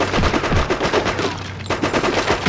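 Dense automatic gunfire in the PS2 first-person shooter Cold Winter, loud rapid rattling bursts filling the whole moment with a brief break near the end before firing resumes.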